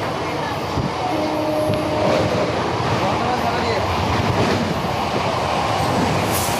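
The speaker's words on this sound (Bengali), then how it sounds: "এখন ট্রেন তার এগিয়ে চলেছে" A Howrah–Bardhaman local electric train runs along the chord line, its rumble and rhythmic wheel clatter filling the carriage steadily, with brief tonal squeals and a rising rush partway through.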